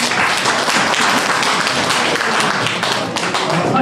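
Audience applause at a party special-envoy forum meeting on party reform, dense steady clapping filling the room at high volume, with possible voices mixed in.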